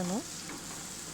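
Onion, ginger, garlic and tomato fry in a pan with a low, steady sizzle that follows a brief tonal sound at the start, quiet and continuous with no talking.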